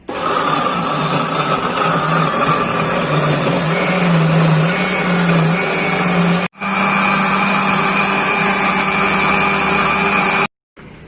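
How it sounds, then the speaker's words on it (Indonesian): An electric blender grinds a paste of shallots, red chili, small chili, cumin, coriander, garlic, turmeric and ginger, a loud, continuous motor whir with a slight drop in pitch midway, cut off by two brief pauses. "setelah kita blender bumbu tadi, sekarang saatnya kita blender pli-nya"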